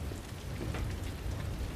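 Rain in Resident Evil 2 Remake, a dense continuous hiss of falling water filling a short stretch, loud and close with no voices over it.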